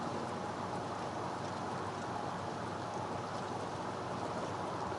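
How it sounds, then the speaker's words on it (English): Steady rain falls in the open-world fantasy game Oblivion, a dense, even hiss of drops that continues without a break and without voices. "As you just hang out in the rain."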